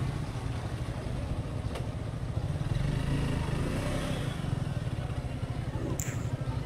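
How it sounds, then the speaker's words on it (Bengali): Two Suzuki motorcycles, a GSX and a Gixxer SF, ride along with a continuous loud engine drone and deep low rumble; a faint voice briefly surfaces under the noise. "দুইটা বাইক আসছি, জিএসএক্স আর তার ছোট ভাই জিক্সার SF"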